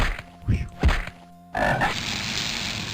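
Frogs croak in the dungeon of the video game Ravenloft: The Stone Prophet, two deep throaty croaks near the start followed by a steady ambient wash with a higher chirping call.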